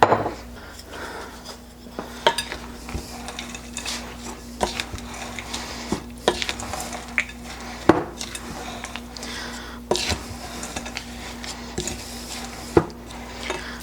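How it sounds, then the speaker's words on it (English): Chocolate chips and nuts are worked into stiff chocolate chip cookie dough in a bowl, with repeated sharp knocks and scrapes at an uneven rhythm, close by, over a faint steady hum, and no voices. "we're going to go ahead and mix in our chocolate and our nuts"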